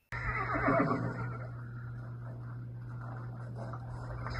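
Arabian horses neighing, a loud whinny rising and fading over the first second, followed by quieter rustling and low steady hum in the background.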